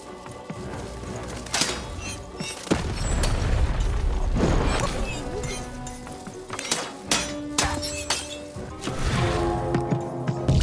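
Heavy stone walls grind and rise in the Lost in Random video game, with booming impacts, crashing thuds and clanking mechanisms layered over a continuous rumble, loud and close.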